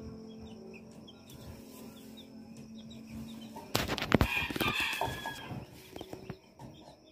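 Green junglefowl in a farm enclosure cluck and crow at a moderate distance, then a sudden burst of wing flapping and scuffling breaks out before the birds settle back to scattered clucks.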